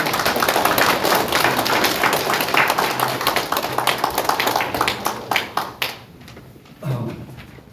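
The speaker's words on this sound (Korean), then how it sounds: "큰 박수 부탁드립니다." A lecture-hall audience applauds in a dense burst of clapping that thins into scattered claps and fades after about six seconds.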